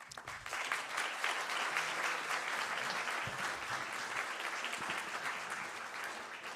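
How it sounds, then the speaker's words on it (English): Sustained applause from a crowd at a public forum on Ottawa's Lansdowne 2.0 proposal, a dense, even wash of many hands clapping at moderate distance for several seconds. "a huge round of applause for you for all you've done on this issue"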